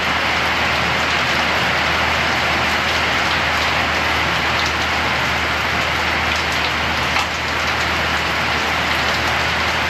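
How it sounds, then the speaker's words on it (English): Steady, dense rain falls and patters on surfaces near a carport, a loud continuous wash with no pauses and no talk. "She's all raining over here."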